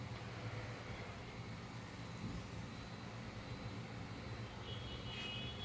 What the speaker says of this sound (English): the fan is running